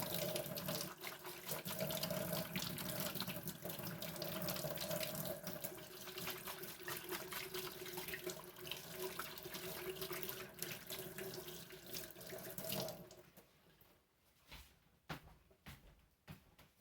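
Water runs steadily from a kitchen tap while hands are washed, a close, continuous hiss that cuts off near the end, leaving a few faint clinks and drips.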